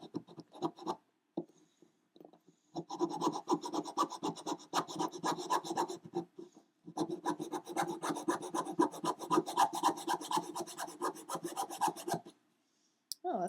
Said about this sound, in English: I'm going to concentrate my filing there.